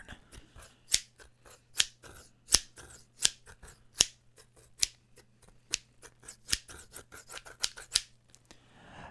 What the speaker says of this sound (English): Snip, snip. Snip, snip, snip, snip, snip.